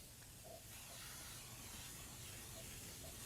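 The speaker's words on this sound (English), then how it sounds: "In this case, I'm using baking spray, which is really nice for the holidays." Baking spray hisses out of an aerosol can into a bundt pan for a fudgy chocolate cake, a faint, steady spray that runs for a few seconds with no talking.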